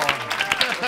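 Brief burst of studio audience applause on a Spanish comedy talk show as a guest comedian is welcomed, broadband clapping with a few cheers, loud and close, lasting about a second.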